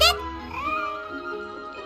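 A white, fluffy cat named Snowball meows in Genshin Impact, a single drawn-out cry that opens the moment and trails into a soft, sustained tone over faint background music.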